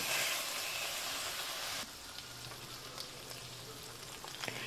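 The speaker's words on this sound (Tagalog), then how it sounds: "Ayan, halu-haluin lang natin at lutuin natin ang hotdog." Sliced hot dogs sizzling in a pan while being stirred, a loud hiss at first that drops to a softer, steady sizzle, with light scraping and a few clinks close by.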